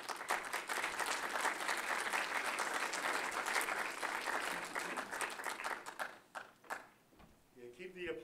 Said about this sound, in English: keep the applause going until I get to the podium